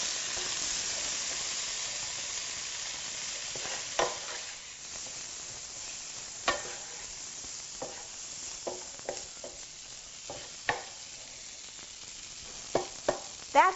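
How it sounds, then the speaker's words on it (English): Green beans tossed with lemon juice, salt and pepper in a pan, a soft, low sizzle punctuated by scattered sharp clicks and scrapes of a utensil. The clicks come closer together toward the end, with no talking. "we're going to add in the lemon juice and the salt and pepper. And mix those around."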